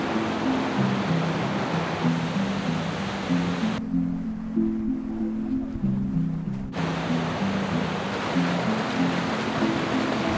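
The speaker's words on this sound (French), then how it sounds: "c'est vrai qu'il y a de très jolies cascades" A waterfall in a Pyrenean mountain valley gives off a steady, loud broadband rush of falling water that continues unbroken for about ten seconds, with no talk.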